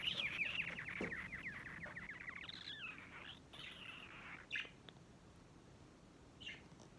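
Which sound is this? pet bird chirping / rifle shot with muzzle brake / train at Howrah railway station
pet bird chirping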